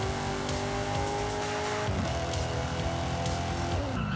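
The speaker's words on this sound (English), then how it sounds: "that engine does sound really nice" A Vision N car's engine in Forza Horizon 5 roars loudly and continuously, revving with rising and falling pitch through gear shifts, with tire noise underneath.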